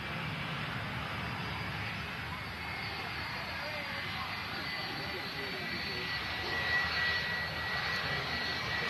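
An airliner rolls along a rapid exit taxiway at an airport, its jet engines giving a steady, fairly distant broadband roar that swells slightly toward the end, with faint talk in the background.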